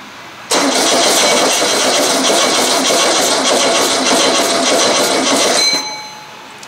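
A Volkswagen engine that has sat unused for eight years cranks and catches on a cold start, then runs with a loud, steady roar close by before the sound cuts off near the end.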